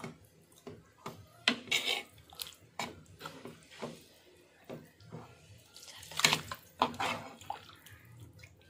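Water is poured into cooked lentils for a drumstick leaf sambar, heard as irregular splashes, pours and clinks of a vessel, fairly close and quiet, with no talk.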